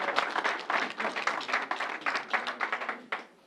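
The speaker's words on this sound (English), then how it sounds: "Can we give them a round of applause?" Enthusiastic applause from a church congregation at a COVID briefing, a dense burst of many hands clapping that continues steadily for a few seconds before tapering off at the end.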